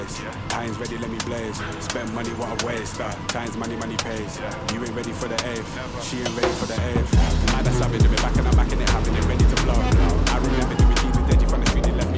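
Go-kart engines buzzing at a Grand Prix karting race start, a dense high-revving whine from several karts that grows louder and rougher as they pull away, with music or voice in the mix.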